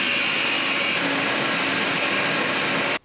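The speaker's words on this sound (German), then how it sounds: "Jetzt müssen wir das letzte Brett nochmal auf Breite sägen." A loud, continuous power saw whines steadily through a wooden board, cutting it to width, for about three seconds, then stops suddenly.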